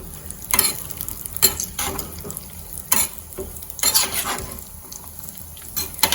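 Sago granules sizzle softly in a pan while a spoon stirs and scrapes against the metal in irregular strokes, close by.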